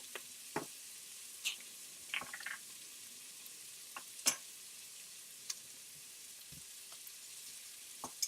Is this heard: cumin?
yes